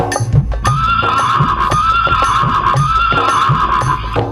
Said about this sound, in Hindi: एक हिनहिनाता घोड़ा दरबार को खड़े,